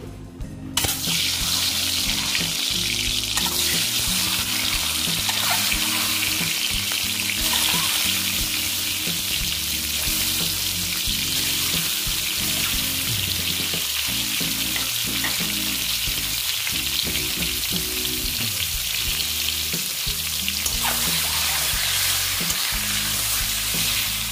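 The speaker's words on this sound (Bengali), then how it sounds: "দেখো ডিমগুলো আমি ভেজে নেব।" Eggs frying hard in a pan for a potato-and-egg curry, a loud, steady close-up sizzle running throughout, with faint stirring and water sounds underneath.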